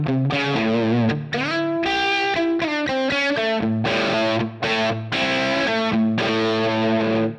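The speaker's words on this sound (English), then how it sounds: "So here's a few settings I have on one of my favorite amp models, the Brit Trim Norm." A distorted electric guitar played through a Line 6 Helix Brit Trim Norm amp model, with the master at 10 and sag at its default, rings out a busy riff of chords and single notes, loud and saturated with no talking.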